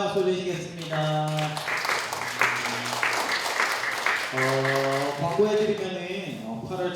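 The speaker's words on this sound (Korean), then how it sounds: "우리 하나님께 영광의 박수 드리시겠습니다." A congregation at a youth worship service claps together, a dense wash of applause mixed with sustained musical or sung tones that swell in and out.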